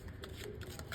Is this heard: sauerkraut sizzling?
no